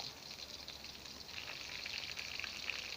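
Faint, steady sizzling and crackling of chicken frying in hot oil, with a few sharper pops.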